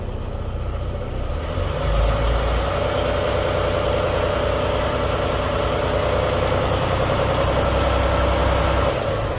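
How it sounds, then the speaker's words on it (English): A Detroit DD15 diesel truck engine idles while parked, a steady low rumble with an even mechanical clatter, close and continuous with no talk. "that only when the engine is running at idle and vehicle is parked"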